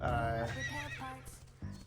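Horse in The Quinfall video game whinnying loudly up close, followed by hoof clip-clops, with a voice briefly audible underneath.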